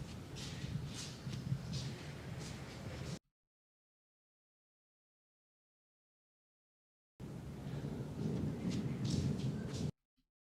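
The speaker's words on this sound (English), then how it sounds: "Sounds like we got a storm brewing." Rain and rumbling thunder in two bursts separated by a long stretch of silence.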